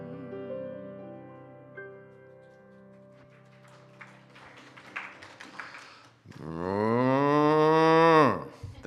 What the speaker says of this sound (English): The cow. The cow.